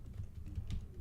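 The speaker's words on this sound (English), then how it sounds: "I am really slow and terrible at typing." Typing on a computer keyboard during a live web design session: a quick run of soft, close keystroke clicks over a low background hum.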